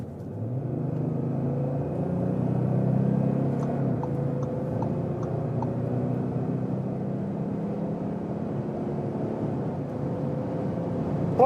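Audi with a 3-liter diesel engine (European version) accelerating at high speed, a steady low engine and road rumble that swells slightly then holds, heard from inside the car with no talk.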